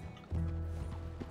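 A horse's hooves in Red Dead Redemption 2 give a short run of muffled clip-clops, fairly close, over a low steady rumble with no voices.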